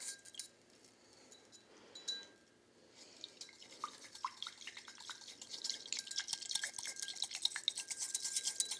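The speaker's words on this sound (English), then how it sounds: "You can hear the bubbles in there a little bit." Faint bubbling and fizzing of frothed matcha tea, with soft trickles and light clinks that grow denser and brighter toward the end, close and quiet with no talking.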